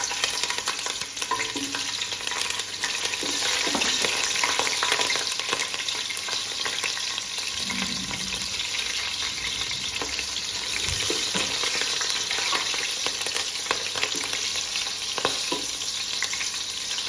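Green chillies frying in hot oil in a pot for prawn biryani, a steady continuous sizzle with crackling bursts and occasional stirring scrapes, close and alone with no talk.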